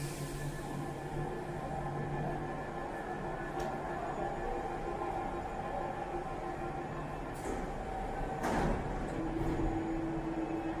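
A Mexico City metro train runs along the line with a steady low rumble and hum, faint squeals and clatters rising near the end, moderately quiet throughout without talk.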